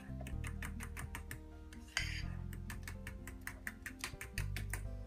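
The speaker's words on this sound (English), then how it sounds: "I'm just going to whisk that a little bit" Chickpea batter is whisked in a bowl, giving a steady run of quick, close clinking taps of a whisk against the bowl with a brief louder scrape partway through and a quiet tonal background underneath.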